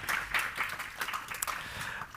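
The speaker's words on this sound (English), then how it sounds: "Round of applause, please." Audience applause at a supply chain forum panel in London, a steady wash of clapping from a seated crowd filling the short stretch at moderate level, no voices over it.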